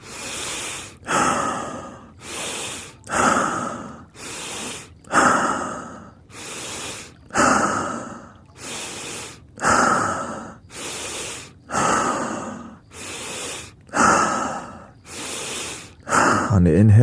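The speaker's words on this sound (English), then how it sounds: "Stomach breathing." Deep stomach breathing during a meditation exercise: about eight slow, even breaths, each a close, audible rush of air with pauses between.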